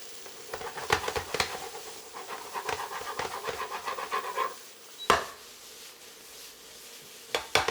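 Butter sizzling in a pan with Brussels sprouts, a steady soft crackle with scattered clicks of stirring and a sharp utensil clatter partway through, close and moderately quiet.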